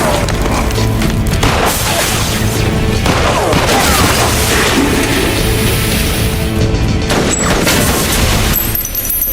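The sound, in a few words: gunfire in a shootout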